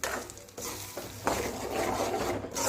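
Ground coconut chutney is stirred into a hot pan of tempering, giving a continuous scraping and swishing of a spoon with faint sizzling, close and fairly loud.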